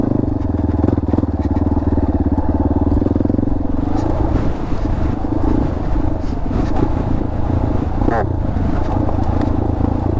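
A dirt bike descends a 4x4 off-road trail downhill, its engine droning loudly and close with shifting revs while the chassis clatters and rattles over rough ground.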